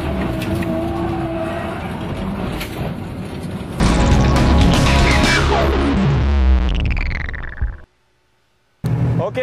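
Drift car engine held at full throttle during a European drift series round in 2011, a loud roaring, revving engine with rising and falling pitch that cuts out abruptly near the end, then returns briefly.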